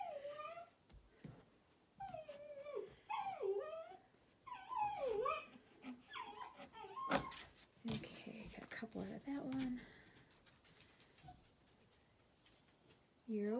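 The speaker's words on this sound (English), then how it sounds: "So you might hear some dog noises in the background." An indoor dog whimpers, whines and barks in agitated bursts at someone walking past the window, loud and close, with short pauses between outbursts.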